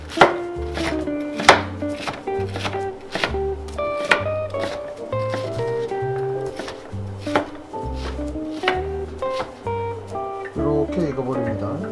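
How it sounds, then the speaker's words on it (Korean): A knife cuts fried pork cutlet (tonkatsu) into bite-size pieces on a board, giving a steady run of crisp, close chopping thuds over continuous background music. "돈가스를 잘라주세요. 먹기 좋은 크기로."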